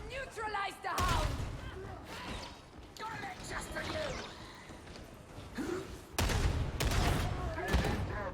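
Gunfire from a weapon in Darktide, loud bursts of shots in clusters with gaps between them, mixed with game effects and some voices talking over the action.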